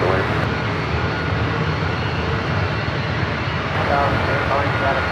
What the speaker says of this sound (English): Alpha 7 heavy airbus departing